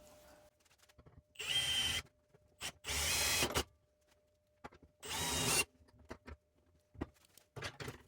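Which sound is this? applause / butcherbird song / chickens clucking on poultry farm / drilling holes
drilling holes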